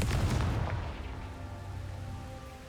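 A Confringo spell blast in the video game Hogwarts Legacy, a loud booming explosion that hits at once and then rumbles and fades over a couple of seconds, with no voices.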